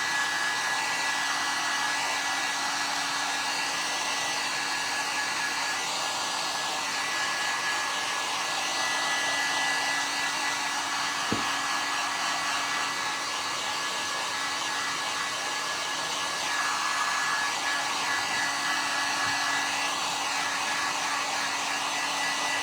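A hair dryer blows steadily close by, drying a print applied to a bottle; a constant loud whooshing hum with a steady motor whine holds for over twenty seconds, broken only by one brief click near the middle.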